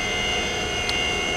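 The spindle of a Hardinge Bridgeport CNC vertical machining center spins at high speed, producing a steady, thin, high-pitched whine over a low mechanical hum for just over a second.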